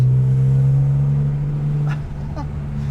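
A supercharged BMW E46 M3 engine drones steadily under load as it accelerates, a smooth strong hum that drops off near the end as the gear changes.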